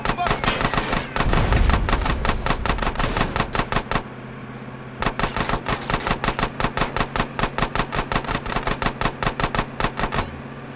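Machine pistol fire in Grand Theft Auto: San Andreas Definitive Edition: rapid, loud automatic bursts in a tight steady rhythm, one long burst, a brief pause, then another sustained stream of shots, with a voice briefly over the start.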